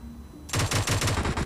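Automatic gunfire in the PUBG Mobile battle-royale game, a loud rapid burst of about six or seven shots erupting after half a second of near silence and continuing to the end.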